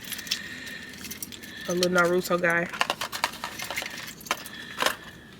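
Keys jingle and clink on a keychain that holds a small Naruto figure, a few bright metallic rattles scattered across the moment, mixed in with nearby talk.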